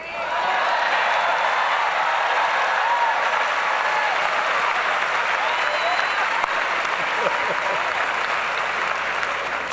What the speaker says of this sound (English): I'm gonna turn around and clap for them.